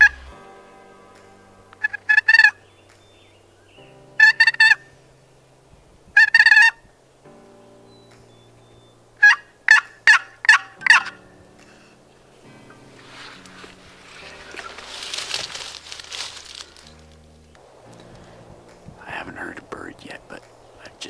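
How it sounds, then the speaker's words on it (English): Turkey box call strikes and answering gobbles in a turkey hunting video game, several sharp bursts of yelping calls in clusters, then a rushing, breathy stretch of ambient noise and softer sounds toward the end. "I'm going to be using my box call."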